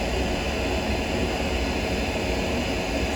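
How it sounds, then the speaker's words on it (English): A JoolTool spinning a pink magic buff against a gold ring with a tiger's eye stone makes a loud, steady whirring hiss that stays even from start to finish, close by and with no voices. "We're gonna use the pink magic buff for a final high polish."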